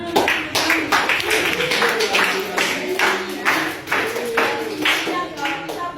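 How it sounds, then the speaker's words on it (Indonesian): Pupils in a classroom clap in a rhythmic, patterned burst, loud and close, with voices mixed in among the claps. "Oke, tepuk tangan dulu."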